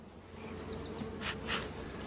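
Bees buzzing in an unmowed yard, a steady outdoor drone with a few brief louder passes as insects fly near.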